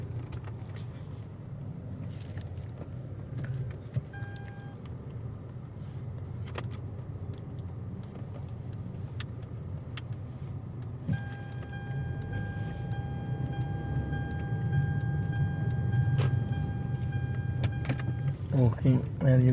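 A Hyundai Elantra with a steering pull moves along on a test drive, a steady low engine and road rumble throughout with faint cabin clicks, and someone speaks over it.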